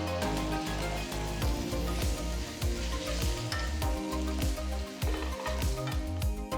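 Ginger garlic paste, chopped tomatoes and slit green chillies sautéing in a kadai for dhaba-style kadai chicken, a steady close sizzle and crackle with occasional scrapes of a stirring spoon.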